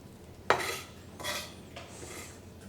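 Ginger being grated on a worn microplane makes three short, raspy scraping strokes, close and moderately loud, the first the sharpest, separated by brief pauses.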